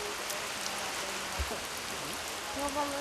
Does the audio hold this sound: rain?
yes